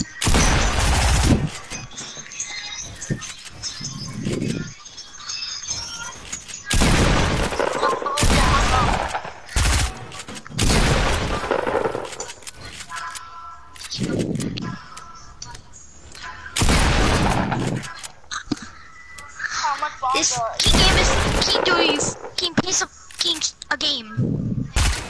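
Rocket launcher explosions and bursts of gunfire in a video game, loud repeated blasts and rapid volleys coming in waves, with voices talking over the action.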